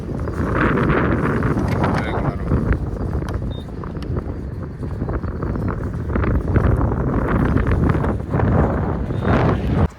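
Strong outdoor wind buffets and rumbles against the microphone in a steady, loud roar that lasts the whole stretch, with a voice faintly present underneath.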